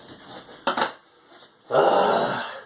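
Leftover flour dumped out of a bowl, a couple of sharp clinks against the bowl followed by a soft sustained pouring whoosh, close with no talk.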